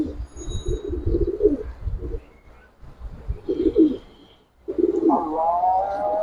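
Giribaz pigeons coo in low, throaty bursts, several rounds close by at a loft, with a brief higher whistling call near the end.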